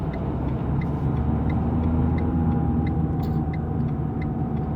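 A car accelerates on the road during a practice driving exam in Vélizy-Villacoublay, a steady low engine rumble with faint ticking and clicks inside the cabin and no voices.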